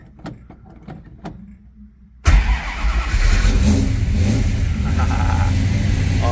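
A neglected 1969 Plymouth Barracuda engine cranks with a few sharp clicks, then abruptly catches and roars to life, settling into a loud, rough, steady idle up close.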